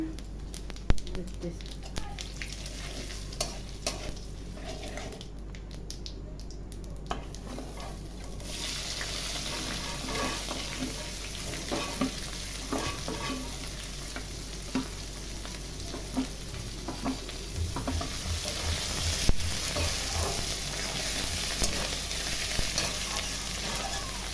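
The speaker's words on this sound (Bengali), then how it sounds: "এবারে দিয়ে দেবো, যেহেতু একটু দেবো তেলে, আমি শাহি জিরে, শুকনো লঙ্কা" Shahi cumin seeds and dried red chilies frying in hot oil, giving a steady sizzle with occasional stirring scrapes throughout; a voice talks over the cooking at moments.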